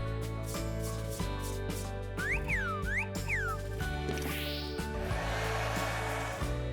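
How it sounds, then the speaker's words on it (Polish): A hair dryer runs continuously with a steady whirring hum in a small craft-making setting, underneath playful music with sliding tones. "Ale to jest suszarka dla ludzi."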